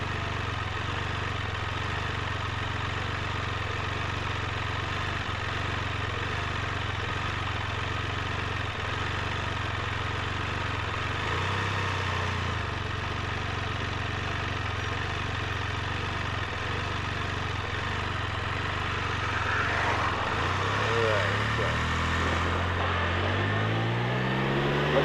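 A Can-Am Spyder F3 three-wheel motorcycle idles in a steady, moderately loud low rumble, then its pitch climbs near the end as it begins to move.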